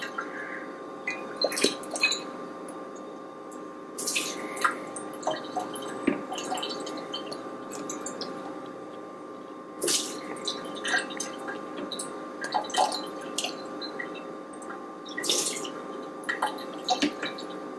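An automatic pet water dispenser drips steadily, with irregular soft drops and trickles repeating close by and fairly quiet over a faint constant hum, with no talking.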